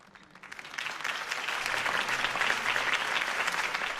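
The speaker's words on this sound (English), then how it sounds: "If only Mr. Wayne, my campaign's largest backer, could have heard that applause" Crowd applause swells after a mayoral campaign speech at a Gotham rally in the Batman Telltale game, rising from quiet into sustained, dense clapping that holds steady and loud to the end.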